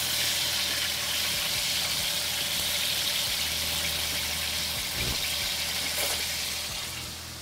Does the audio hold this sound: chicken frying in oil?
yes